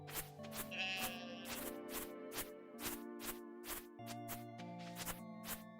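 Sheep in a farming video game bleat over and over, close and clear, with short repeated calls above a steady rhythmic game soundtrack.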